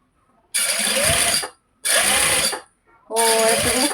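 Sewing machine stitching a top, loud close motor bursts in three runs of about a second each, separated by brief silences.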